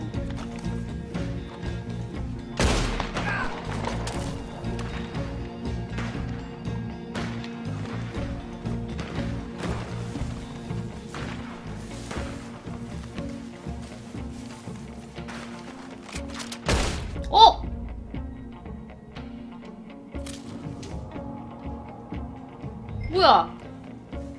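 Gunfire in a Red Dead Redemption II multiplayer match on Xbox Series X: a few sharp shots crack out over steady game ambience and hoofbeat-like clatter, with louder reports near the middle and end while someone talks.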